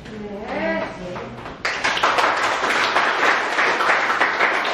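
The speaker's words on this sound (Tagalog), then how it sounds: "Yung palakpak na yan, binigay mo sa akin." At a training seminar, a seated audience breaks into a burst of applause after a voice, the clapping dense and sustained to the end.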